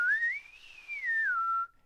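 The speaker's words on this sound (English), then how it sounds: "I'll actually have them just blow air and try and whistle." A single clear whistled tone slides up, holds, then glides back down, close and clean over silence, lasting under two seconds.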